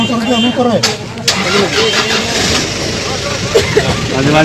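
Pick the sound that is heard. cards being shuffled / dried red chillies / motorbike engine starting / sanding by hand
motorbike engine starting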